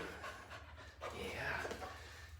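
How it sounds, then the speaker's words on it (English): A dog at a county humane society pants quickly and steadily close by, a soft rhythmic breathing heard under a person's speech. "he's an active dog, a very good dog, a very kind dog"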